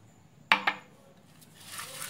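Salt and olive oil being mixed for brushing pork ribs, heard as two quick clinks of a utensil against a bowl followed by faint scraping and soft stirring, close and quiet.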